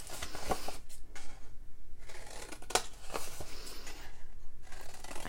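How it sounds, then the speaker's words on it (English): Scissors snip through a scored paper box to cut off its corners, a series of close, crisp cutting crunches with short pauses between strokes. "So the first thing I'm gonna do is cut off the corners, okay?"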